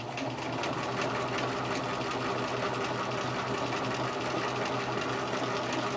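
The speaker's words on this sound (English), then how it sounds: "Step 4 will now do the zigzag stitch on the right hand side." Sewing machine running a zigzag buttonhole stitch, a continuous, close, steady mechanical whir and rapid needle chatter that carries on without a break from start to finish.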